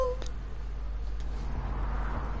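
Major Tom, a cat in the video game Wasteland 3, gives a short meow near the start, followed by faint game sounds over a steady low background hum.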